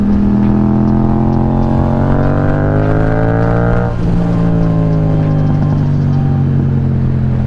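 Motorcycle on a new tire ridden along a gravel road, the engine droning loud and steady up close, pitch climbing with acceleration, easing briefly and then pulling again over constant wind and road noise.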